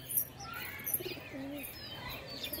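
Soft low pigeon cooing comes from loft birds, one a white-and-green pigeon, with a few short murmured notes mixed with light chirps and rustles.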